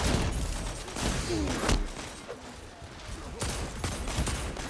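Gunfire from team shots in an online shooter video game, dense overlapping bursts of shots and impacts crowding the whole stretch, loud and busy with brief quieter gaps.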